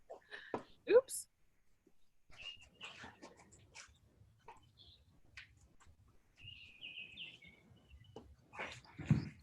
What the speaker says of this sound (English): Birds are singing in the background there.